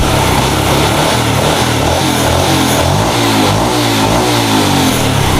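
A Yamaha Jupiter Z1 fuel-injected motorcycle engine runs steadily nearby, rising from idle into a sustained rev with a dense, even drone throughout.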